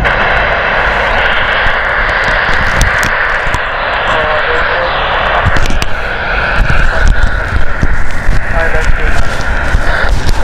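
An airliner landing at Heathrow Airport, a loud continuous jet engine roar with wind noise that swells toward the end, while a radio voice talks over it.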